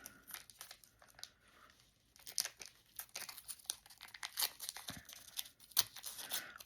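Washi tape being pulled and torn off the top of a craft button, a run of close crinkly rips and crackles in irregular bursts, fairly quiet with no talking.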